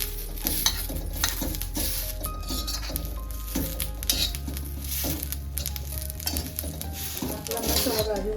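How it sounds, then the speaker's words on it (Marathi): Onion, garlic and spice masala dry-roasting in a pan while being stirred, with steady soft sizzling, scraping of a spoon against the metal and occasional clinks of utensils, close and continuous throughout. "मसाला भाजून झालेला आहे."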